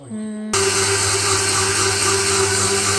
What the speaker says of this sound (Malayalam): മിക്സി ഇങ്ങനെ കറങ്ങിക്കൊണ്ടിരിക്കുമ്പോൾ ചെറിയ ഇതിൽ